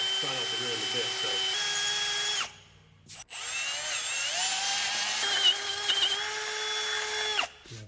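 Power drill fitted with a bit whirring loudly and close in two long runs with a brief stop between, its pitch shifting slightly as it loads up during a Super Duty steering repair.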